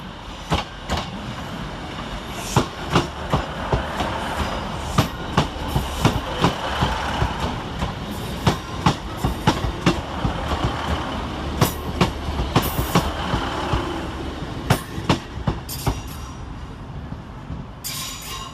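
Northern class 156 and 150 diesel units, 156415 and 150104, roll into Manchester Piccadilly, with a steady engine rumble and repeated clickety-clack wheel beats over the track joints throughout, plus occasional sharp clanks, close and fairly loud.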